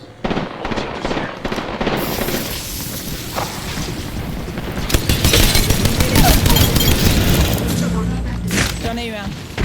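Gunfire in a battle royale squad shooter, dense bursts of automatic shots and booming impacts crackling continuously at close range, building louder midway, with game voice lines and squad chatter layered over the shooting.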